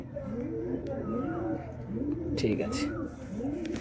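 Pigeons in a loft in Nalpur, Howrah, cooing in repeated rising-and-falling calls, close and overlapping throughout, with a short spoken phrase among them.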